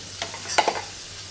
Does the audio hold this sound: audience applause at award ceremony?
no